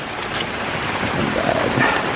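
Heavy, nonstop rain pours steadily onto a garden full of plants, a dense, even wash of hiss with no gaps, loud and close.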